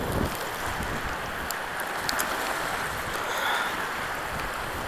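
Floodwater pours through a desert wash in Peeples Valley, Arizona, a steady broad rushing roar mixed with some wind buffeting, continuous and fairly close.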